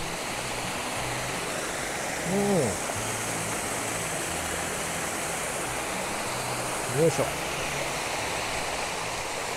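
A stream swollen by rainy-season rain rushes toward the sea near a shrine path in Shimanto, Kochi. The water keeps up a steady, close hiss, with a man briefly murmuring over it twice.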